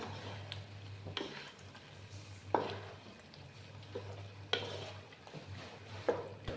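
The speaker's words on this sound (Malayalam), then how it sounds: "ഇതിലേക്ക് നമ്മൾ നേരത്തെ പൊരിച്ചു വെച്ച ചിക്കൻ ഇടാൻ പോവുകയാണ്. ഇത് നന്നായി മിക്സ് ചെയ്തെടുക്കുക." Fried chicken being stirred into chilli sauce in a home kitchen pan: occasional spoon scrapes and clanks over a soft, steady sizzle, with no talking.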